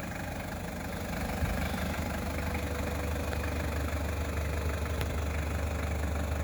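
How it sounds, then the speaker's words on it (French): A 1997 Toyota Hilux Surf SSR-G with its 3-litre 1KZ-TE turbo diesel idles steadily, a loud, close, even rumble with a faint clattering knock throughout. "3 litres, turbo diesel 1KZ TE"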